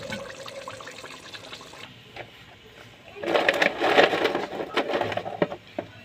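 Water splashes and pours into a simmering sauce in a home kitchen, a brief louder gush of liquid after a quieter stretch of low background noise.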